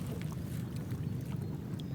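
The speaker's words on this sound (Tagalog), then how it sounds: "Nagtutulak na lang bangka." Low, steady rumble of water washing against a wooden boat hull as it is pushed along toward a river mouth, with some wind noise and faint splashes.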